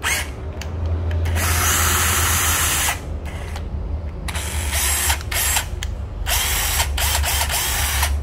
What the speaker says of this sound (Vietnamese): Khoan gốc Hitachi ha.